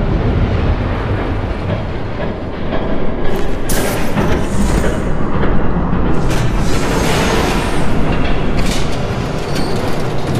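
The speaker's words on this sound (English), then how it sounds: "There's a train coming." A train thunders past close by in Batman: The Telltale Series, with steady loud rumbling, rattling wagons, clattering wheels and sharp metallic squeals throughout; no one speaks.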